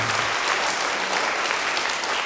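A church congregation applauds in a dense, steady wash of clapping that stays loud and even for a brief moment, with no voices standing out above it.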